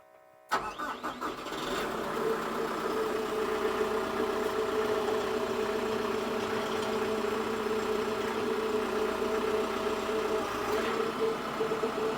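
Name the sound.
tractor engine starting and idling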